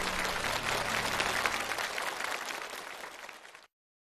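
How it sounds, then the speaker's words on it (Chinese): Studio audience applauding on a Chinese television challenge show, a dense, steady wash of clapping that holds loud for several seconds, then thins and cuts off abruptly near the end. "让我们用热烈的掌声欢迎陈重庆进入荣誉殿堂。"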